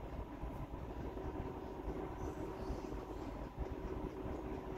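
A train rolls past as a steady, broad rumbling roar with a faint tonal whine, continuous and fairly distant, holding even for several seconds without voices.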